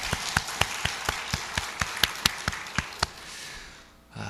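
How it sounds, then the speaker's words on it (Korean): A congregation at a Wednesday church service claps in steady unison. About a dozen sharp, evenly spaced claps ring out, then stop after roughly three seconds, leaving quiet room tone. "우리 하나님 앞에 영광의 박수 한번 합시다."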